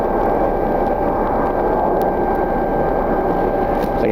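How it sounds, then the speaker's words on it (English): A Frontier Airbus A320neo jet departing a wintry Cleveland airport gives a steady, broad engine roar that holds at a constant level throughout, loud and continuous with no voices. "It's like an A320neo heading out today."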